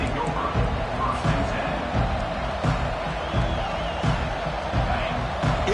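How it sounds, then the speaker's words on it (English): A large crowd roars continuously in a big open venue, a loud sustained wash of cheering with scattered shouts and thumps. "this crowd is fired up. Listen to this noise here."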